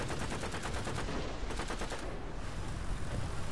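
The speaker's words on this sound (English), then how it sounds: "Some lobbing machine gun rounds over at me," Rapid machine gun fire in War Thunder, dense repeated bursts of short cracks in quick rhythm, steady and fairly loud throughout a tank battle, with no talk.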